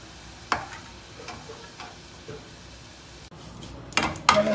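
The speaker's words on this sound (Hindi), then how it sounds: "इसे निकाल कर फिर इसी तेल में हम गाजर और बीन्स को भी फ्राई कर लेंगे।" Carrots and beans fry in hot oil for a Jain-style mixed vegetable dish, a faint, low sizzle beneath sporadic clicks and knocks of stirring, with louder utensil scrapes near the end.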